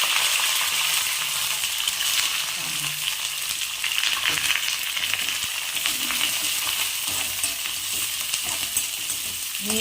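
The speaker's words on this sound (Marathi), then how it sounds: "मला छान असा लाल परतून घ्यायचं तेलामध्ये" Peanuts, curry leaves and green chillies fry steadily in hot oil for Khandeshi poha, a dense, continuous sizzle and crackle held close and loud throughout, with no voices.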